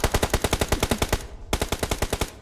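Rapid automatic bursts from an M249 machine gun in the mobile battle royale game BGMI, two long strings of evenly spaced, loud shots with a brief pause between, no voices.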